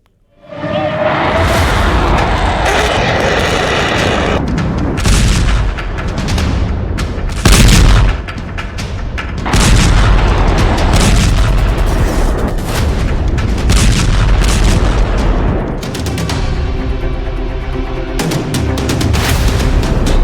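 Military strikes in an attack on Iran: a dense, loud run of heavy booms and artillery blasts, one after another with rushing whooshes between them, continuous for the whole stretch with no talk.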